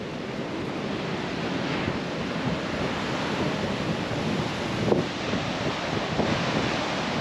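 Ferocious ocean surf pounds the Kangaroo Island coast in a loud, continuous roar of breaking waves, with wind buffeting the microphone and no voices.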